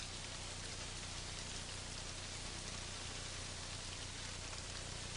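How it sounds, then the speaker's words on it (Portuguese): Heavy tropical rain pours steadily at an excavation site, a dense, constant hiss of drops on the ground with no pauses, loud and close throughout. "A forte chuva tropical causa uma paralisação na escavação."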